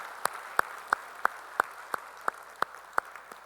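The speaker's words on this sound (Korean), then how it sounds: "우리 찬양을 받으실 주님께 영광의 박수 올리겠습니다." Congregation clapping during a Sunday church service, heard as roughly ten evenly spaced, crisp claps in a steady unison rhythm over a quiet room.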